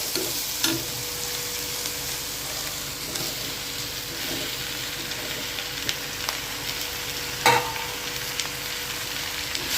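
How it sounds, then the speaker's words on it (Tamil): Tomatoes and browned onions frying in a pan for a prawn gravy produce a steady low sizzle throughout, with occasional spoon scrapes and clinks, a sharper knock near the end, and no voices. "தக்காளி நல்லா வதங்கட்டும்."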